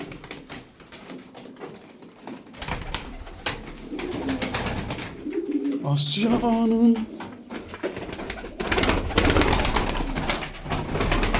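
Pigeons coo in low, rounded calls amid clattering and background noise, with a brief spoken word in the mix.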